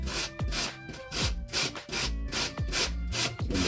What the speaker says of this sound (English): I'm using my little knuckle buster here, as we call them, and I'm just going to grate the ginger down